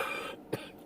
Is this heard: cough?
yes